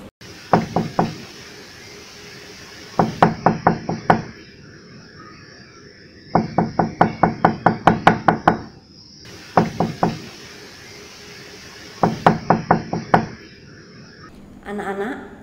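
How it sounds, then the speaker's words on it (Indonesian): Repeated knocking on a door, delivered in quick bursts of four to ten raps each, several groups spaced a few seconds apart, loud and close with nothing else around them. "inilah bunyi pintu diketuk"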